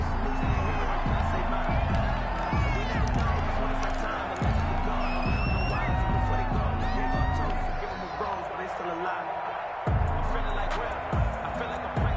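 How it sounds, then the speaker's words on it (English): A stadium crowd roars and cheers steadily in an American football video game between the Houston Texans and Arizona Cardinals. The crowd noise is loud and continuous, with whistles and whoops on top and a commentator talking over it. "this crowd is ready as their guys get set to match up between the Houston Texans and the Arizona Cardinals"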